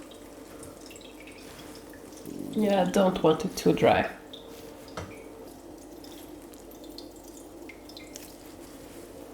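Water drips and trickles softly and steadily from squeezed homemade cream curd cheese, while a voice speaks briefly over it near the start.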